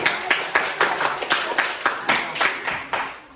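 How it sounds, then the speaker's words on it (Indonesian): A secondary school class applauds group 1 with quick, rhythmic clapping: about a dozen sharp, evenly spaced bursts close by, with a faint voice in the background. "Tepuk tangan buat kelompok 1."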